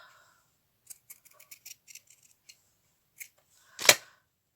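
Scissors cut paper for a scrapbook page, giving a run of small, crisp snips followed by one louder, fuller cut near the end, close up with no talking.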